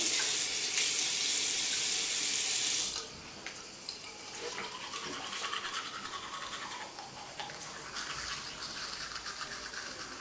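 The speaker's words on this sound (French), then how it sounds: "Pendant ce temps, c'est que je vais me laver les dents." Tap water gushes loudly for about three seconds, then stops, giving way to a steady scrubbing of a toothbrush on teeth at a bathroom sink, with faint trickling behind it.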